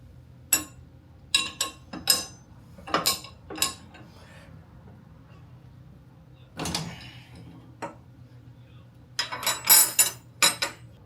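Metal clinking from saw blades and a dado stack being handled at a SawStop table saw: several sharp separate clinks and clatters spread across the clip, close, with quiet gaps between them.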